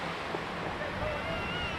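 Sea waves at Tiruchendur beach, a steady dense wash of surf filling the scene without pause, broad and continuous with a windy edge and no clear individual breaks.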